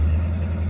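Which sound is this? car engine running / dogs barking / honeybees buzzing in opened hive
car engine running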